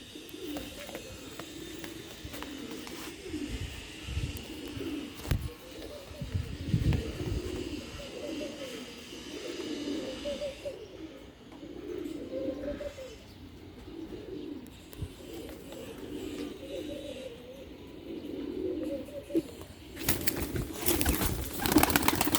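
Pigeons in a loft cooing repeatedly in soft, rolling low coos that overlap one another, with occasional rustling and faint background noise, nearby and moderately loud.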